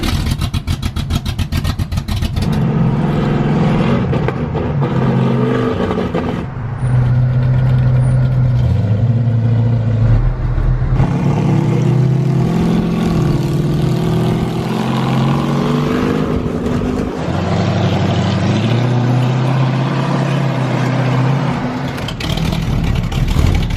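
A 1968 Camaro with a 502 V8 revs hard on a dyno, a loud, sustained engine roar climbing and holding through repeated pulls, with brief dips between runs and no talk over it.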